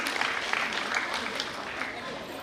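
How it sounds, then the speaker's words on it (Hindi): Audience at a KPMAS event clapping for the director, a brief burst of steady applause with a voice faintly underneath. "जोरदार तालियां बजाते हैं"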